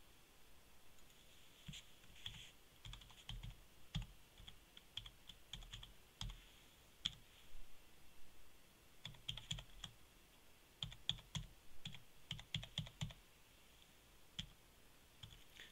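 Typing on a computer keyboard while filling in a voicemail log: soft, close key clicks in irregular bursts and pauses, with no voices.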